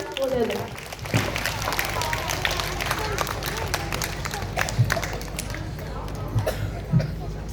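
Grade 2 school assembly audience clapping, scattered applause and crowd murmur with occasional thumps and taps, voices talking throughout at moderate volume.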